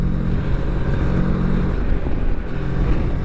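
Moto Morini X-Cape motorcycle engine running at high revs, with a loud steady engine drone and a strong tonal hum that briefly dips and returns, recorded close up.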